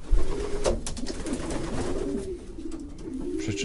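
Pigeons in a racing pigeon loft coo repeatedly in low, rolling calls close by, with several birds overlapping and faint wing flutters and shuffling in between.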